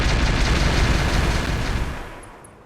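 A mortar explosion in the mech video game Roguetech: a loud, broad, rumbling blast that roars for about two seconds, then slowly fades out.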